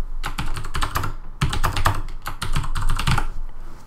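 Typing on a computer keyboard, close and clear: quick runs of clattering key presses broken by short pauses, with no talking.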